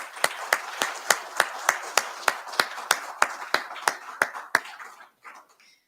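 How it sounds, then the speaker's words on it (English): Rhythmic clapping at a military promotion ceremony for a brigadier general: sharp, evenly spaced claps about three per second stand out over a softer crowd patter, then stop abruptly near the end. "I'd like to give them a round of applause"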